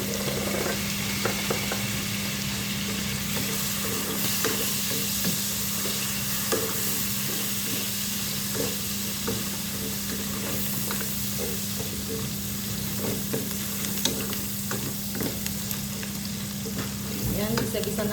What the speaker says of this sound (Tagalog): gisa-gisa natin yung bawang lutuin